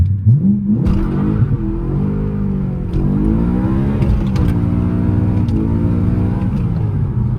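BMW E92 M3 doing a soft launch with traction control off: a loud, close engine rev that climbs sharply in pitch through the gears, with a continuous rising roar and brief dips between shifts.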